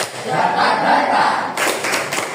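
A class of primary-school children claps their hands together in a short, dense burst of applause, fairly close and loud, which swells and then continues steadily through the few seconds.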